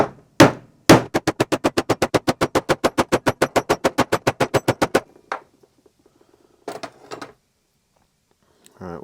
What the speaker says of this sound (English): I'm just gonna hit this with a hammer and hopefully it'll bend how we need it to.